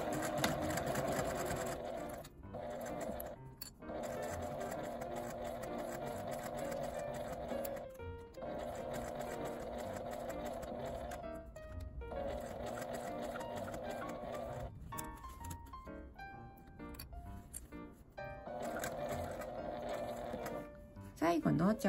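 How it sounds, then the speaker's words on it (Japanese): A sewing machine stitches a small zipper pouch made from fabric scraps with a 12 cm zipper, starting with backstitching; steady running bursts separated by brief pauses, close and loud, with no talking. "針を落として返し縫いで縫い始めます。"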